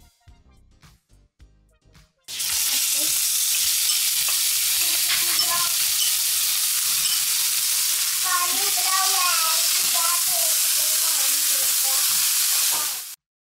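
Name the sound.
marinated chicken frying in olive oil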